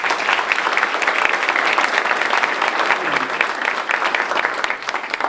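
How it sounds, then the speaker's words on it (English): Sustained, loud applause from a town hall audience, dense and steady clapping filling the room for several seconds with no pause. "So let's give him another round of applause."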